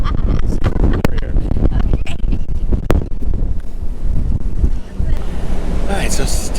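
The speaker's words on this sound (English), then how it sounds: "I think it might be a little less breezy up here on this Serenity" Strong wind buffets the microphone on the open deck of the Carnival Victory cruise ship at sea, a loud continuous roar with gusty surges, and someone talks faintly beneath it.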